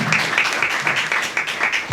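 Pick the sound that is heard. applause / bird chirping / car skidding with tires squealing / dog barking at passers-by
applause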